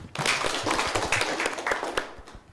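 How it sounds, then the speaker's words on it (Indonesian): A short burst of applause from a group, many hands clapping together at close range. "Iya, tepuk tangan dulu."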